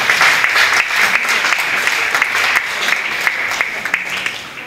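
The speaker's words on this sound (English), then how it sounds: "Now, we, in Nigeria, a round of applause." Audience applauding at a Nigeria Breweries women empowerment programme event, sustained dense clapping from a large seated crowd with sharper individual claps standing out, loud and continuous before gradually tapering.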